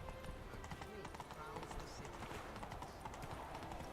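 The horse Roach gallops in Witcher 3, its hooves beating a rapid, steady clip-clop under a voice talking.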